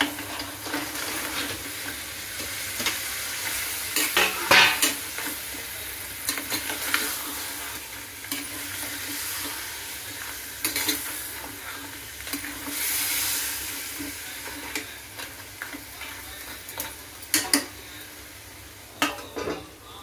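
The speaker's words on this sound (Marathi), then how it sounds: "आता मी त्याच्यात हे खेकडे टाकत आहे" Crabs sautéing in hot oil in a pan, a continuous sizzle and frying hiss with repeated scraping and clinking of a stirring spoon against the pan, close and steady with no talking.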